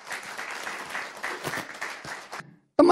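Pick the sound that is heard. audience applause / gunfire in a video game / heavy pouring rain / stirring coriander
audience applause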